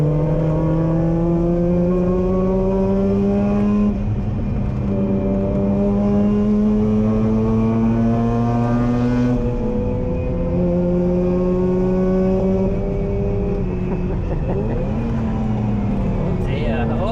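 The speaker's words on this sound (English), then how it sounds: "What the hell is that exhaust on that?" Rotary-engined race car at Croft circuit, its exhaust droning loud and close with rising and falling harmonic pitch as it revs and shifts, continuous over about seventeen seconds.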